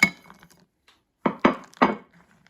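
White and dark chocolate chunks tipped into brownie mix, a few close, separate clinks and clatters against a bowl, with quiet gaps between them.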